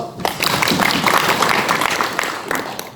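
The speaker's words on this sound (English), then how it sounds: "Give her a round of applause." An audience applauds after a sales training talk, a dense burst of many hands clapping close by that swells and then tapers off over a few seconds.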